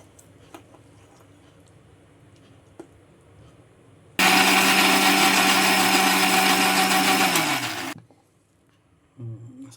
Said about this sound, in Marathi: आता मिक्सरमध्ये आंबा पूर्ण बारीक करून घेऊया